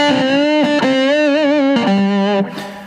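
Electric guitar playing sustained, slightly distorted notes with vibrato, each ringing out with a reverb tail; loud and alone, no voices.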